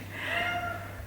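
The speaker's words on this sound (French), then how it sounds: "Tu as fini de miauler? Tu en fais du bruit." A cat named Minouche lets out a single clear, drawn-out meow close by, over a faint low indoor hum.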